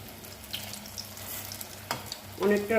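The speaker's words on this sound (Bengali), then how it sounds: "এগুলো পুরোটা ভাজতে হবে, অনেকটা সময় লাগবে, এতগুলো ভাজবো।" Eggs frying in a pan for a dalna, a steady low sizzle with faint stirring clicks, then a short burst of louder spitting and scraping near the end; no talking.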